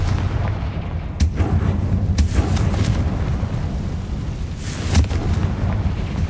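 A Confringo fire blast spell from Hogwarts Legacy, heard as booming bursts that land at about 1.2 s, 2.2 s and 5 s over a constant low rumble of game ambience.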